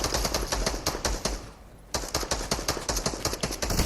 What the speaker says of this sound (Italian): Guarda che bastardi che ci sparano da destra, guarda.